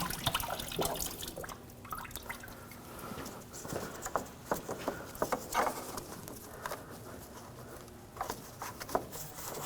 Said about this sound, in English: Just in case, grab this hose and just pull it out. There you go, a little bit of coolant.